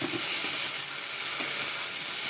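Kuche eel pieces fry in a hot pan, giving off a steady, dense sizzle that holds at an even level for the whole stretch, with no voices over it.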